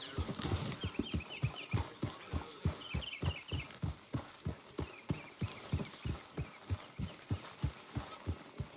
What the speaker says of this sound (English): Healthy looking horse there.